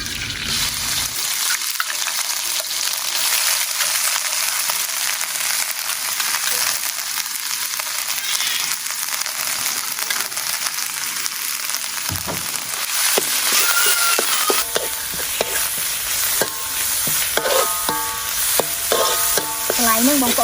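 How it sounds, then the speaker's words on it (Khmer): A spice paste fries in hot oil in a pot for chicken with bamboo shoots, with a steady, loud sizzle and scraping stirs running throughout and sharper stirring clatter toward the end. "ខ្ញុំទុកឲ្យប្រេងក្តៅខ្ញុំដាក់គ្រឿង"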